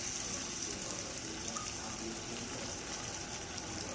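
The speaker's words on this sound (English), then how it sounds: "I'm gonna go ahead and add about half a cup of water" Half a cup of water pours into a cooking pan on low heat over onions for a pumpkin korma, a steady close hiss and splash lasting several seconds with no talk.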